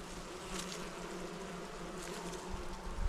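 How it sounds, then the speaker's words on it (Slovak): Honeybees buzz at an open hive, a steady close drone of many wings with slight swells, continuous and fairly quiet. "že sa mi to páči, že máš také kľudné včely"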